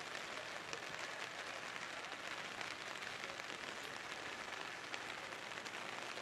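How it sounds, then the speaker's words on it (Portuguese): Fairly heavy rain falls over the south zone of a city as a steady, dense broadband hiss with no breaks, fairly quiet and distant, and no voices over it. "Chove nesse momento aqui na zona sul da capital."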